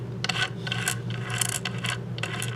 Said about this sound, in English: I'm taking these washers out of there